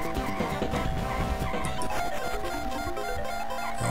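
Kart tires skid and screech through a hard drift in a Mario Kart race played on an Arcade1Up console, loud and continuous over engine buzz and busy game music.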